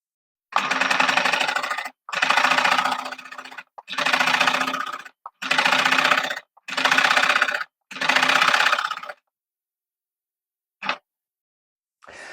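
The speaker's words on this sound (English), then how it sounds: "So I can get on and sew all the stripes now." Sewing machine stitching shirred stripes on a dress in six bursts of a few seconds each with short pauses between, then a brief final burst, close and clear with no talk.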